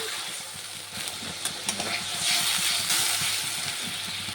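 Ginger-cumin paste frying in hot oil for a katla fish curry, giving a steady, soft, close sizzle with light scraping as it is stirred.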